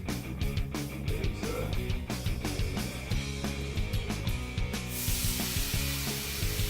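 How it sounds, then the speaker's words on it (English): Bacon crisping in a skillet gives a steady, close sizzle and spatter for about five seconds before the sound thins to a soft hiss at the end. "You want to cook this great bacon crisp."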